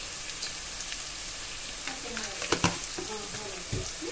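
Onions frying in a pan with oil, giving a steady low sizzle with a few sharper crackles and stirring knocks near the middle, heard alone without talk.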